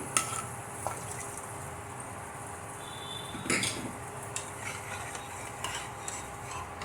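A spoon scrapes and stirs through thick tempered mixed-lentil dal in a metal pot, with soft clinks and a gentle sizzle, one sharper knock midway.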